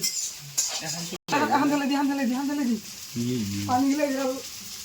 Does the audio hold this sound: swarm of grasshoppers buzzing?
no